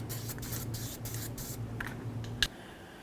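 Short bursts of copper anti-seize spray hiss onto brake parts in a workshop, several quick sprays in a row followed by a light metallic tap, close and fairly quiet.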